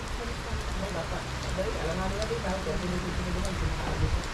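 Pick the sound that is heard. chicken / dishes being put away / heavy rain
heavy rain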